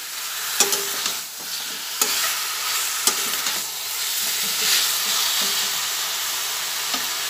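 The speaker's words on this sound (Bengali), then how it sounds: "এইভাবে অন্তত 5 মিনিট মতো এটা নাড়াচাড়া করে নেব" Chicken with peanut paste stirred in a hot pan: a continuous loud sizzle and hiss, broken by occasional sharp scrapes and taps of the spoon against the pan.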